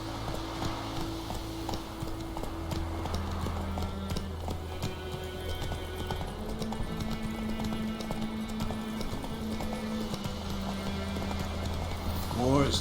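Roach the horse gallops in The Witcher 3 game, with hooves drumming in a steady rapid clip-clop rhythm throughout, carried under a low music drone and occasional voices.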